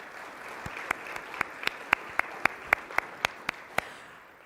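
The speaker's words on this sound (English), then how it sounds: "Let's give them all a round of applause." Applause at a talk on women's pro soccer in Columbus, a light bed of crowd clapping with one prominent nearby clapper striking sharp, evenly spaced claps about every quarter second.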